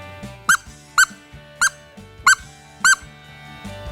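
Five short, squeaky wood duck call notes come in an even, steady rhythm, close and fairly loud over a faint background hum.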